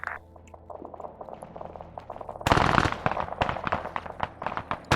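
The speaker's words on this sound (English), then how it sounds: "Now you're hearing some firing" Distant gunfire crackles in an Arma 3 CSAT campaign battle, first as scattered faint pops, then as a louder, denser run of rapid shots in irregular bursts.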